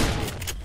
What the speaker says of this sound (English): we are burning through the shotgun ammo